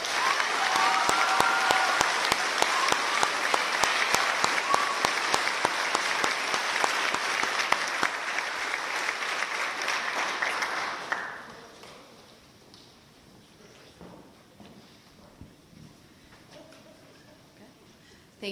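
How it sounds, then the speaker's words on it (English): Loud, dense applause from a graduation ceremony crowd at a 2022 junior high school, sustained clapping with a few faint tones over it, then dropping sharply to quiet room noise with scattered claps. "Please join me in giving him a round of applause."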